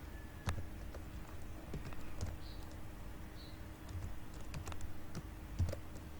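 Code typed on a computer keyboard makes a steady, moderately quiet run of irregular key clicks with occasional sharper taps, heard alone with no talking.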